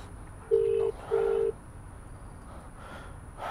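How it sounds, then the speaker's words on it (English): A telephone rings in two long, even electronic tones with a short gap between them and a third starting at the end, clear over a faint background hum. "It was a phone ringing."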